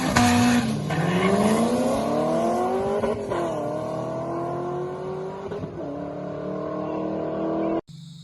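A turbocharged Hyundai Tiburon drag racing a pro-charged Corvette at a no-prep event: a loud engine revs up through rising gear pulls with shift breaks and tire noise, close and continuous before cutting off abruptly.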